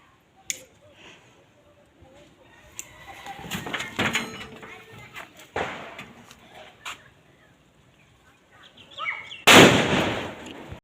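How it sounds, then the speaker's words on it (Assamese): Diwali firecrackers going off outdoors at dusk, with scattered sharp pops and bangs across the stretch and one loud, longer burst near the end, amid faint background voices and ambient noise. "ফটকা মাৰা হৈ গ'ল"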